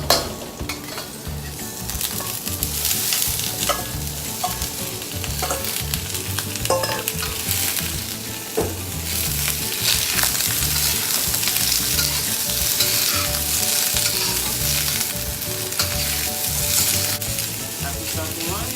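Chicken, garlic and asparagus stir-fry in a wok with a loud, continuous sizzle. Irregular scraping and tossing sounds from stirring run steadily through it, with no one speaking.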